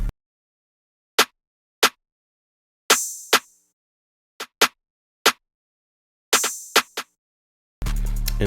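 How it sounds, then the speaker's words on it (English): Trap drum pattern with sharp snare hits and two longer hissing open hi-hat strikes landing in a bouncy rhythm over silence, ending as the fuller beat kicks in. "so I'm gonna add the snare so you can hear the bounce"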